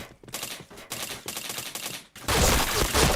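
Rapid bursts of gunfire from the online shooter game Point Blank, crackling in quick volleys with short gaps, then a louder, denser barrage near the end.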